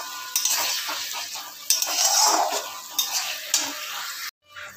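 Potatoes sautéing with spice paste in a pan, several loud spatula scrapes and stirs over a sizzle, ending abruptly in near silence.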